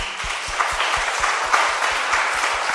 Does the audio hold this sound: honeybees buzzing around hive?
no